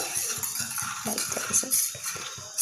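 A spoon stirs egg mixture in a pan, giving a quick, steady run of near metallic scrapes and light clinks.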